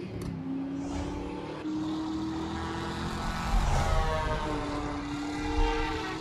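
A news helicopter flies overhead in the Driver San Francisco video game, its steady, droning engine roar swelling slightly amid car engine noise, with no talk.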